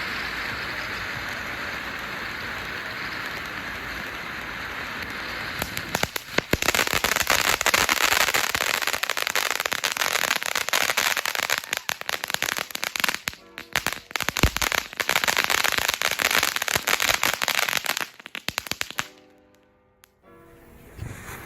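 A TNT Bottle of Sparks firework fountain hisses and then breaks into dense, loud crackling for several seconds before cutting out near the end.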